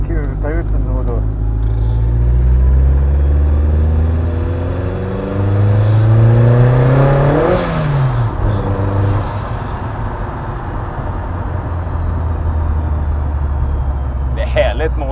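A car engine revving and accelerating inside the cabin, its rising and falling drone loud and steady throughout, with a voice speaking briefly over it.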